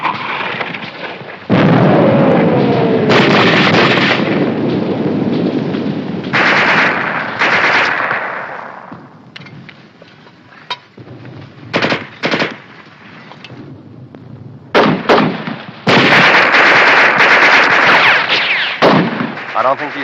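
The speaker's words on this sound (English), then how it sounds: "Keep firing that mortar! Keep it going!" Loud war-movie battle din with mortar blasts and bursts of machine-gun fire, heavy booming stretches broken by sharp separate shots and a brief lull, with shouted voices mixed in at moments.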